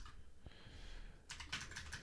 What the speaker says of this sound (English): Struggling with the typing